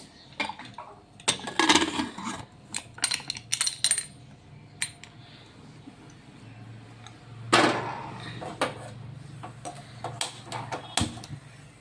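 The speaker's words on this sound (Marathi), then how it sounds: "आता मी कुकर पॅक करते" A metal pressure cooker lid is closed and locked on a cooker holding ragda, giving a series of sharp clanks and clicks in bursts, with a louder knock midway, over a low steady background hum.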